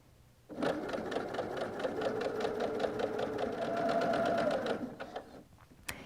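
A sewing machine stitches a mitered quilted napkin, starting suddenly and running at a steady, even pace for about four seconds before stopping, close and clear.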